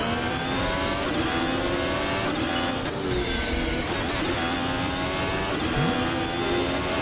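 High-revving racing car engines at Monaco in a VR racing game, a steady loud whine with rising and falling pitch sweeps as the cars accelerate and shift, continuous throughout with no talk.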